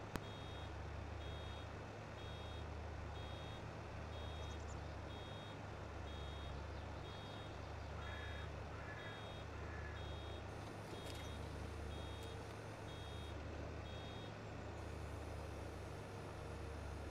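In the Farming Simulator 22 farm game, a straw baler gives a regular electronic beep, steady and evenly spaced, over a constant low machinery drone for the whole stretch.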